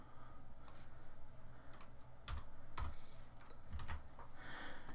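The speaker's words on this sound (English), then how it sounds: "I'm just going to highlight it and press the backspace key on my keyboard." A computer keyboard clatters with several sharp key clicks, including presses of the backspace key, as text is deleted in a programming editor; the clicks sit close and fairly loud over a steady background hiss.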